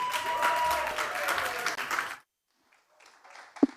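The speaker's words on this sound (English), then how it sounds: "Shall we give her a round of applause?" An audience at a climate change talk applauds to welcome a speaker to the stage, with dense steady clapping for about two seconds that stops abruptly, followed by faint handling noises and a brief thump.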